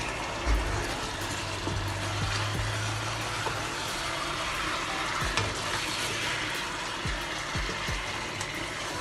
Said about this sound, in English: So I will continue to stir it until I get my desired color